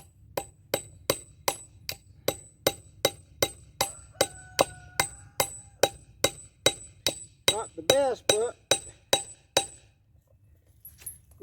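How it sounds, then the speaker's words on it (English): A metal pipe repeatedly hammering a fence staple into a corral gate post, about two dozen sharp ringing blows in a steady rhythm, close up, with no voices. "I got a piece of pipe. I got to drive in a fence staple for my chain"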